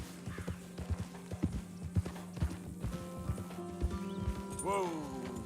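Horse hooves clop at a walking pace in the Red Dead Redemption 2 game, a steady, moderately close rhythm under game ambience, with a short whinny near the end.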